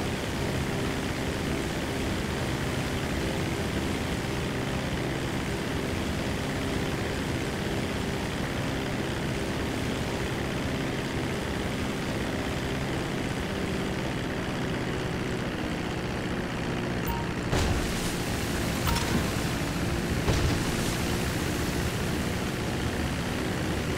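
A propeller airplane in Grand Theft Auto 5 Online, during the Cayo Perico heist, drones in a continuous steady flyby with engine and wind noise at moderate level, no talking.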